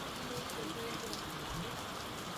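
Late afternoon rain falls steadily on a village main street along the Camino de Santiago, a soft, even hiss of drops with faint background voices.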